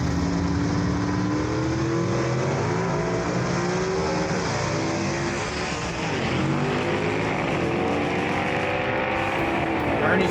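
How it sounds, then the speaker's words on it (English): A gasser drag car, the Brian Harris prepared machine driven by Ernie Smith, roars down the drag strip at a Southeast Gassers event, its engine note loud, continuous and climbing through the run with a brief dip mid-pass. "Ernie Smith takes that Brian Harris prepared race car down the racetrack to a win."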